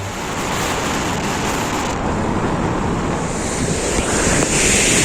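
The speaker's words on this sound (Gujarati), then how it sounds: "આટલું મસ્ત પાણી અહીંથી પસાર થઈ રહ્યું છે" Rainwater after a heavy downpour runs along a road between Savarkundla and Amreli, a loud, steady rushing wash close by that barely changes over the few seconds.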